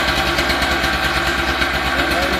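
Stihl TS 800 cut-off saw engine running at a steady, loud idle close by, a buzzing two-stroke drone with no break.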